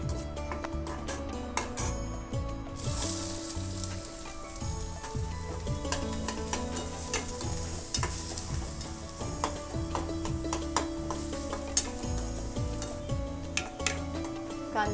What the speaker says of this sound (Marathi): आपण आता फोडणी देऊयात भाजीला.